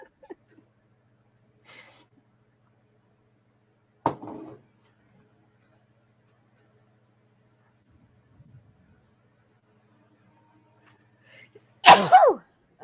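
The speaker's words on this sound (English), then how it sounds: "I always sneeze in threes." Two loud sneezes separated by quiet, a sharp one early and a bigger, louder burst near the end, with faint breathing between.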